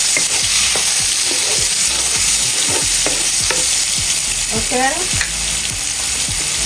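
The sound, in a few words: diced onion frying in pan for Jamaican chicken curry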